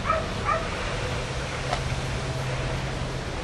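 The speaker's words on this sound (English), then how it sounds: "There's that dog. It's been yap, yap, yap, yap, yap all the time I've been here." Small dog yapping somewhere off in the distance near a railway line at Manea, a few sharp high yaps near the start and another later, faint over steady low background rumble.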